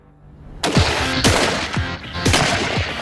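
Gunshots fired in a bullet speed test over 25 metres: several sharp, loud blasts spaced about half a second apart, each with a ringing tail and no voices.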